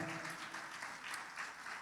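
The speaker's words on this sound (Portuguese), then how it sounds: "Eu acredito que vale uma salva de palmas bem forte para o Senhor." Steady audience applause fills a church Christmas celebration right after a women's choir performs, a dense, even patter of many hands that stays soft and constant throughout with no talking over it.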